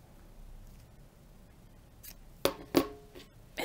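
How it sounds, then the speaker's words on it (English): Quiet background, then two distinct crisp snips of scissors trimming ribbon close by, with a softer snip just before and another at the end. "Then you're going to take your scissors and you're just going to trim them."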